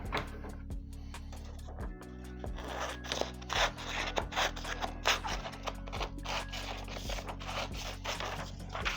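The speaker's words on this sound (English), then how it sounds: "I'm going to cut this into an oval shape." Scissors snipping paper for a collage on a large gelli monoprint, a steady run of close crisp blade crunches and rustles, with a low hum running underneath.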